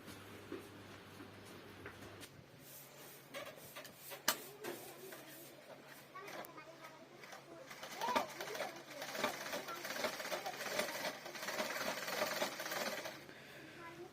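A restored Butterfly sewing machine, previously jammed at the needle bar, runs and stitches in uneven stop-start spells of ticking, clattering mechanism, close and moderately loud, with a faint low hum at the start.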